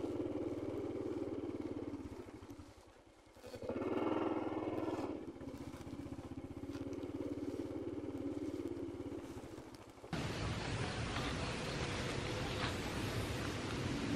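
Constant engine rumble and clatter of a motorcycle riding rough tracks through plantations, with a brief dip and surge midway and a shift to louder wind-blown noise near the end.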